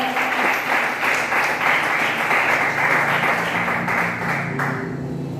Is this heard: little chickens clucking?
no